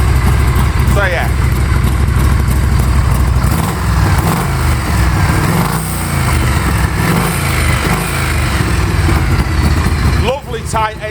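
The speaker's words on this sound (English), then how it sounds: "Lovely tight engine." A Harley-Davidson Shovelhead 1340 five-speed motorcycle with fishtail exhausts idles close by in a tin room, a steady low rumbling lope, while someone talks over it.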